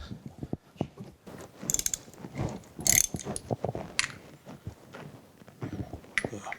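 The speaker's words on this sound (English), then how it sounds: "There's 4 bolts on the bottom that loosen that up. Let's get that loosened up" Bolts being loosened with a wrench on the base of a universal dividing head on a horizontal milling machine, a steady run of close metallic clicks, ratcheting and clanks with no talk.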